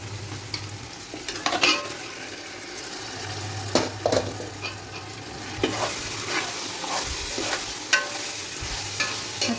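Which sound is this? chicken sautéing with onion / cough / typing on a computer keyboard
chicken sautéing with onion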